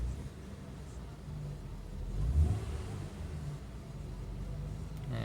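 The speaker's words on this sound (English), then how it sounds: "Go ahead and give it a couple revs." A 2003 Acura CL Type-S engine idles steadily, then gets a brief rev around the middle that swells and settles back to a steady idle, heard from close by with no talk.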